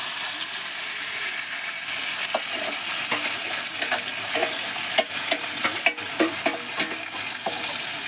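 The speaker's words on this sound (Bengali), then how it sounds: "মাংস দিয়ে দিতেছি কড়াইয়ের মধ্যে।" Meat sizzles loudly in a hot wok over a cow-dung fire, a constant hiss of frying broken by repeated scraping and clinking as it is stirred close by.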